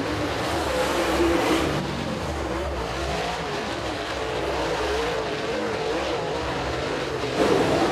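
Super late model race cars roar around Eriez Speedway during a heat race, a continuous engine drone with passing swells and a brief louder rev near the end, heard from a distance.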